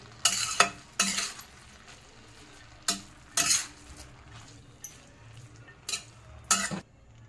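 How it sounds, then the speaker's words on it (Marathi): A spoon stirs matki dal into fenugreek leaves frying in a pan, giving repeated scraping, sizzling strokes in bursts of about half a second with short pauses between them, close and fairly loud, with no talking. "आता आपल्याला मटकी डाळ टाकायची आहे असं व्यवस्थित वर हल करून घ्यायचं आहे"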